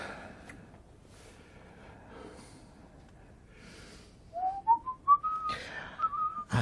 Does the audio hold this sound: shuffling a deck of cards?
no